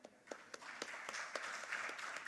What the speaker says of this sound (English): a huge round of applause for Kevin